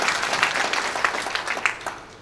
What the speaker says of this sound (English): So just an applause. Let us just appreciate our director.